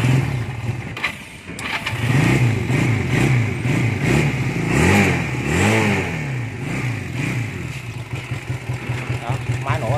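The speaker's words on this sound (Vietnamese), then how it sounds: "Đây để mình nổ máy lên cho anh em luôn." Japanese-import Honda Rebel 125 motorcycle engine starting up close, then settling into a rhythmic idle with a few throttle blips, loud and steady with someone talking over it.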